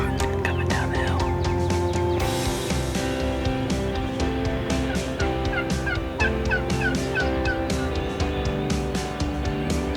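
Wild turkey toms gobble loudly and repeatedly outdoors on a hillside in the morning, rapid rattling calls overlapping in bursts over steady background noise.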